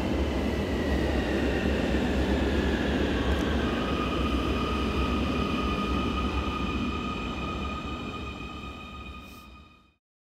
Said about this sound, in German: die U3 Richtung Mosach kommt jetzt